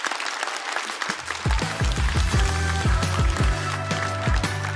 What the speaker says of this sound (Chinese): 掌声送给冯子豪